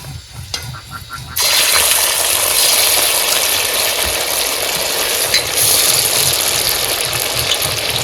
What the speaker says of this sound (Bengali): এখন আমাদের ফিশ ফিঙ্গার গুলো ভেজে নেবো কড়াইটা গরম হলে তেল দিয়ে দেবো